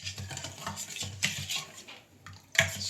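A spoon clinks and scrapes around a vessel, stirring sugar into water to dissolve it, with repeated close metallic taps and swirls and a sharper clatter near the end.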